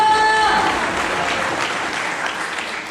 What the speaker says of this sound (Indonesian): Kalau tepuk tangan untuk Tuhan Yesus